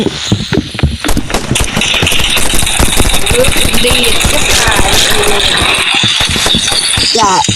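Rapid gunfire from a shooting video game crackles in dense bursts, then settles into a continuous loud rattle, with a voice talking over it.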